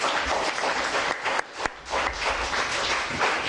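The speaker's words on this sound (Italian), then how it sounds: "E ovviamente anche Azzurra, un altro applauso" A crowd at a festive gathering claps in a close, lively burst of applause that dips briefly midway before picking back up, continuous clapping with no talking.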